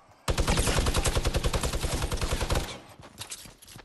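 Minigun fire in a video game: one sustained, rapid burst of loud gunfire lasting a couple of seconds, ending abruptly into quieter game ambience.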